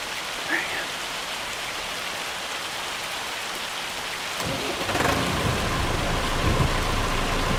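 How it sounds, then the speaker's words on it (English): A hailstorm in Farming Simulator 25, a dense, steady roar of pelting rain and hail with low rumbling thunder, building louder midway and filling the whole soundscape. "That was a mistake, and now the hail's coming."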